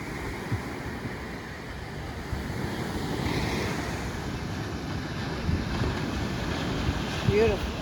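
Rough ocean surf at Captiva Island rolling in steadily beneath gusting wind that buffets the microphone, a continuous broad wash with no voices.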